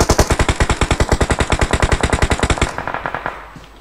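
Machine gun fire in a video game, a loud close burst of rapid, evenly spaced shots lasting a few seconds before cutting off into a fading echo.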